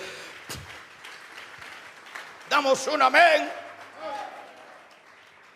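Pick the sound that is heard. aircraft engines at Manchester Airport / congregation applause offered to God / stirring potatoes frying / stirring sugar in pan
congregation applause offered to God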